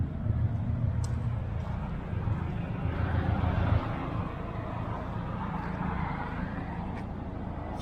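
A Ford F-150 or Dodge Ram 1500 pickup truck out on a drive, a loud rumbling road and engine roar with wind buffeting the microphone, steady throughout with a few knocks.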